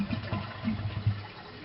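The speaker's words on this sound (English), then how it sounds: "I'm going to flush it and let all the water out of it." A toilet flushes as the tank is drained for a fill valve repair, a gushing rush of water with gurgling swirls, steady and fairly close, with no voices.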